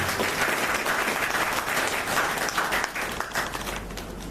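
Sustained applause at an anniversary celebration ceremony honors the organizing committee president, a full crowd clapping steadily that thins slightly toward the end.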